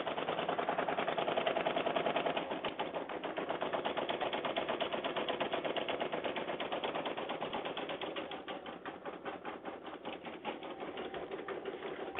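An embroidery machine stitching out a Stitchtopia font design for an in-the-hoop project: fast, steady mechanical chattering with a rapid even rhythm, running continuously and close.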